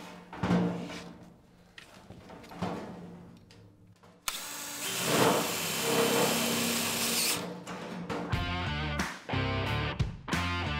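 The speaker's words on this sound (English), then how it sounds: "We'll take our drill, self-tapping quarter inch or 5/16 screws." A drill drives quarter-inch self-tapping screws into sheet metal for a plenum, with a sustained loud whine and grind through the middle stretch, then short bursts as the screws seat, with clanks of metal being handled around them.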